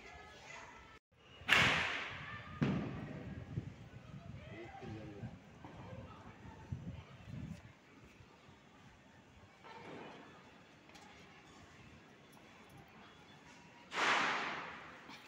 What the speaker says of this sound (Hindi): और जब चांद निकला है तो बहुत सारे पटाखे छोड़े हैं सभी ने,